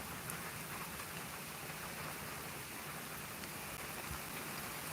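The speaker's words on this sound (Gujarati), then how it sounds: "આજનો વરસાદ સારો સારો છે" Steady rain falls on a farm in the village of Nani Rafudal, a dense unbroken hiss of drops that stays at an even loudness throughout, with no voices.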